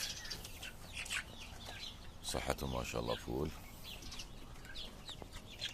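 Brahma hens and roosters cluck and squawk nearby in a farm coop with chicks, while someone talks over the birds throughout.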